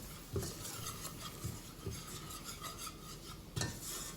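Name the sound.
stirring flour in a pot for béchamel sauce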